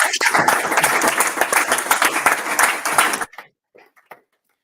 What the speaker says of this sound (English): But a round of applause.